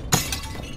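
A sharp, brief crash of pottery shattering in the video game Curse of the Dead Gods, a single close impact followed by a short scatter of debris.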